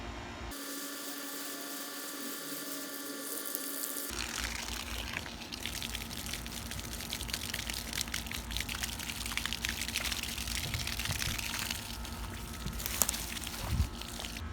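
Water running steadily from a hose onto newly planted backyard mango trees, a continuous broadband hiss that opens with a brief mechanical hum and then flows constantly with faint splashing, close and even in level, no voices.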